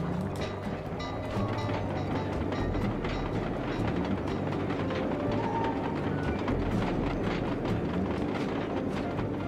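A train in the video game Sly 2: Band of Thieves rumbles steadily past with a continuous loud roar and faint rhythmic rattling of the cars, with no voices.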